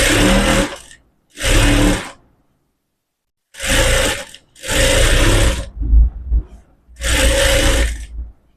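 Sewing machine stitching umbrella fabric in five loud motor bursts, each roughly half a second to a second long, separated by brief silent pauses, close up with no talking.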